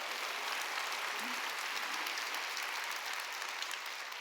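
Church congregation during Sunday worship applauding together, a steady, even wash of clapping from a large crowd, somewhat distant in a big room.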